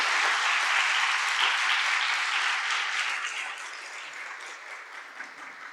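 A church congregation applauds at a Korean ordination service as a new elder is declared: sustained, dense clapping from a large crowd, strong at first and gradually thinning and quieting toward the end, with no talking over it.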